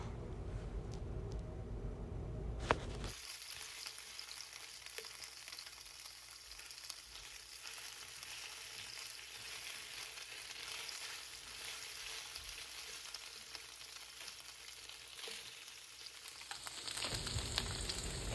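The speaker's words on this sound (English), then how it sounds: "I'm going to let those cook for about 5 to 10 minutes until they start to brown." Trader Joe's cauliflower gnocchi and sausage fry and brown in a pan, giving a faint, even hiss of sizzling that runs steadily for most of the stretch with a few low knocks at the start and end.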